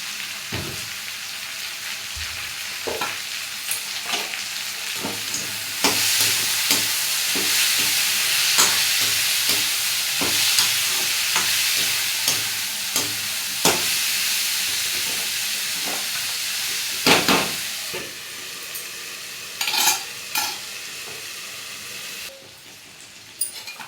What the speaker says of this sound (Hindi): यहाँ सब्ज़ी में नमक डालने के बाद मैं अच्छे से चम्मच चला लूँगी।